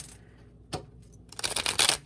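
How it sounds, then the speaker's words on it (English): Tarot cards being shuffled: one soft riffle burst, then a louder run of rapid papery flutters and slaps toward the end, close by with no talk. "So let's pull from this deck. Let's say shuffle one more time."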